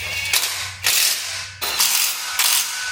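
Nuts are tightened with a ratchet while a Mikolo M4 Smith machine is assembled, giving four close, loud bursts of rapid clicking separated by short pauses.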